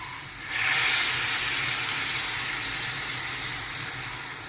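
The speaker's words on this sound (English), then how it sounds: "You're going to add a bit of the water from the pasta." Pasta water poured into a pan of frying porcini mushrooms, setting off a loud, steady broadband sizzle and hiss that surges at once and holds evenly, close up, with no voices.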